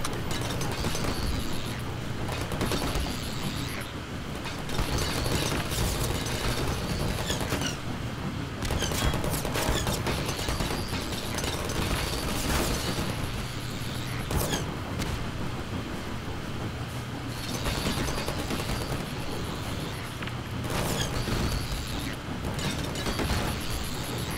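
Half-Life 2 combat: rapid bursts of gunfire and grenade blasts crackle and pound in dense, broadband volleys, with brief lulls between clusters, loud and sustained across the stretch.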